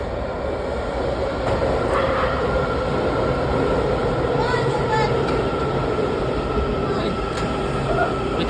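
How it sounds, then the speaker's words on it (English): An Amtrak train running past near the Washington Metro line toward King Street, Alexandria, as a steady loud rumble with rail noise throughout, and faint voices mixed in. "Was that the Amtrak train?"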